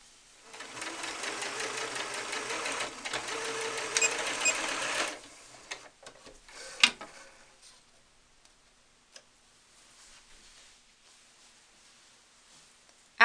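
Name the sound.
sewing machine stitching doll skirt fabric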